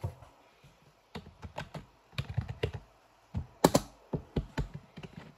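A chat message being typed on a computer keyboard while playing Roblox, with clusters of close, crisp key clicks in quick bursts separated by short pauses.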